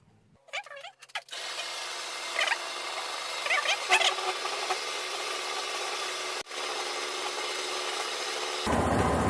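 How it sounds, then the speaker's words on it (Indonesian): A lens cut from scrap window glass is ground against its curved form using the finest abrasive sand. After a brief scuffle, a steady, close gritty rubbing continues back and forth, with no talk. "penghalusan permukaan kelengkungan dengan memakai pasir asah yang paling halus"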